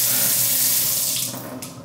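Tap water runs into a sink in a newly replumbed old convent, a loud, close, steady splashing hiss that then cuts back and tapers off as the flow changes.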